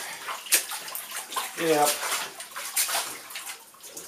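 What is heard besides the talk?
laundry being squashed by foot in bathtub water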